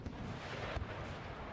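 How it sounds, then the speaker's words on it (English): A dense artillery barrage in the Napoleon: Total War video game, with overlapping booming cannon shots rumbling continuously and one heavier thump standing out midway. "Over on this side, I do believe it is still going to be an artillery barrage."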